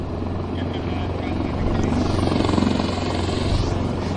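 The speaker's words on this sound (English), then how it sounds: "they're running a big helo behind us here on the ramp" Large helicopter running its engine on an airport ramp at Vancouver, a close, loud rotor thump and turbine whine that swells partway through, with talking over it.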